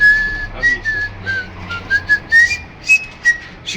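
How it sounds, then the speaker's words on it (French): Someone whistles an opera air, a clear bright melodic line of short sustained notes and little slides, close and fairly loud with no talking. "je siffle par exemple l'air d'opéra"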